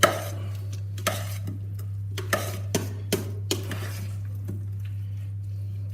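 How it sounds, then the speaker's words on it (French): Pâté filling for a Berry-style pumpkin pâté being mixed in a bowl, with scattered clinks and scrapes of a utensil against the dish over a steady low hum, no talking. "Voilà, on mélange."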